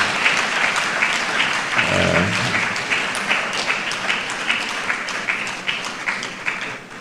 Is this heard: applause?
yes